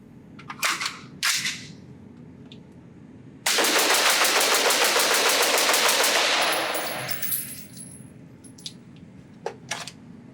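Noveske x SupDef NODEF 6.5 Creedmoor short-barreled rifle emptying a full magazine in a rapid string of loud, sharp shots lasting about four seconds, with a few single cracks and metallic clinks before and after.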